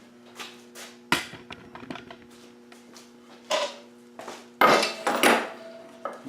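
Someone rummages through metal driver bits in a wooden workshop, producing scattered clinks and several louder clattering jangles at irregular intervals, close and with no one talking.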